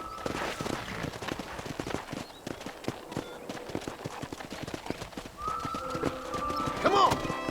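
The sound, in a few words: horse hooves galloping, from a video game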